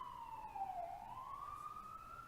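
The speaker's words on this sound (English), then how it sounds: "That's police. Those are sirens. Those are sirens." A police siren wails, sweeping down and back up in pitch, steady and fairly distant, with no other sounds competing.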